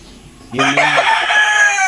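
Close, loud crowing from gamecocks kept for cockfighting, a single drawn-out crow that starts abruptly after a quiet moment and rings on, with no talking.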